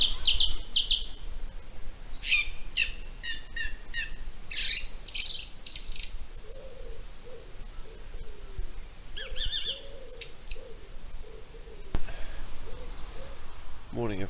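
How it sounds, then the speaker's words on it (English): Owls screech and call at night from around a bike-packing camp under a poncho tarp, the shrill cries coming in repeated bursts over a steady background hiss, moderately near, with no talking. "with the screeches of the owls for company"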